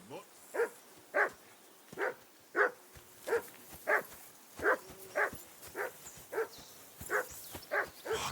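A dog in the medieval video game Kingdom Come: Deliverance II barks repeatedly in an even rhythm, about a dozen short yelps mixed with whimpers, close and clear with game ambience beneath.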